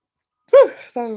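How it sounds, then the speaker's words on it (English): A single sharp sneeze bursts out of silence, close and loud, followed by a brief voiced exhale. "that was a sneeze."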